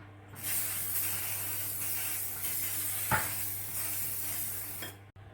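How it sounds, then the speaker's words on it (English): Cooking spray from a cook-and-bake can hisses steadily onto an oven tray for about four and a half seconds, close and fairly loud, with a faint tap midway before it cuts off. "I'm going to use a cook and bake spray to coat my oven tray"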